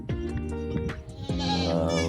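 Several newborn goat kid bleats, close and loud, with wavering harmonic cries coming in quick succession and a longer drawn-out bleat near the end.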